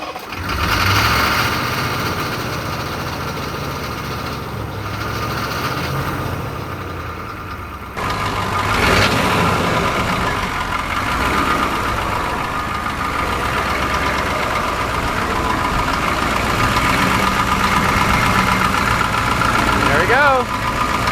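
A 1986 Chevy diesel squarebody brush fire truck engine idles steadily and loudly up close, its rough rumble continuing throughout while voices talk over it.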